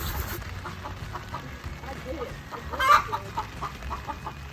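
Hens in a coop give soft clucks and murmurs under a brief spoken remark, with one louder squawk near the end, at close range.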